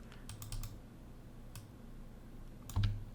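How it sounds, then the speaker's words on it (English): Clacking keystrokes on a computer keyboard with a stuck key, entering Excel commands: a few quick close taps and a short burst of clicks, heard alone over a low steady hum. "I got a button smushed on my keyboard somewhere."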